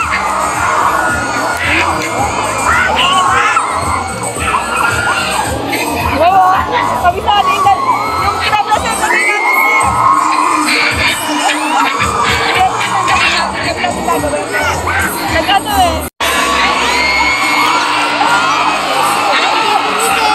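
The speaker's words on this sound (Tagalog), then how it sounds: "Grabe ang hiyawan ng mga kabataan dito." Children and teenagers in grades 7 to 12 shout, whoop and cheer loudly at a school activity in Santiago, a dense, continuous crowd roar with excited yells rising and falling, plus a brief dropout near the end.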